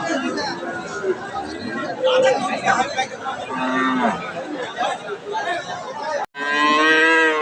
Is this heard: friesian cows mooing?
yes